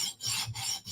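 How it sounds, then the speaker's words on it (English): OZ Roosevelt knife blade drawn across a sharpening stone at 20 degrees, three quiet rasping strokes in quick even rhythm, each separated by a brief pause. "We're going to sharpen this at 20 degrees to a mirror."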